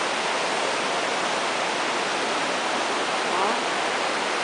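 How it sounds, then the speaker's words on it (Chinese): A waterfall in Japan produces a steady, dense roar of rushing water that fills the whole clip at an even, loud level with no pauses. "隔離嗰個就係瀑布啦。"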